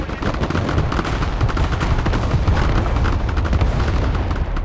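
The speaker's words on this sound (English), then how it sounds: "Looks like I annoyed them enough for them to want to kill that artillery." Video-game artillery fire in Broken Arrow: a dense, continuous barrage of booming blasts and crackling gunfire fills the whole stretch, loud and close with no pause and no talking.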